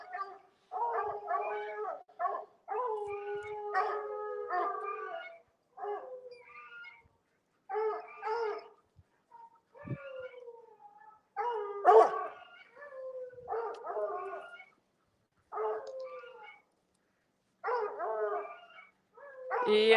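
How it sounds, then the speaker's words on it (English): Two dogs playing outdoors in spring, barking, yipping and howling in bursts with short pauses between them, close and fairly loud throughout. "Oh, I'm getting the dogs excited."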